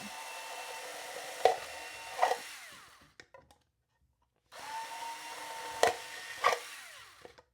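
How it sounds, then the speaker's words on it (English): A power drill bores holes through the side of a plastic cup in two bursts, each a steady whine with a couple of sharp catches as the bit breaks through, separated by a short pause with light handling clicks. "we're gonna drill 3 holes into this cup"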